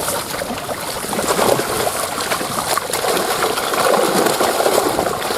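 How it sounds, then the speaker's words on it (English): Spring carp splash and churn the water, giving a steady broad wash of splashing and trickling that is loud and continuous, with no clear voices. "All I'm doing is listening for those ferocious splashing noises"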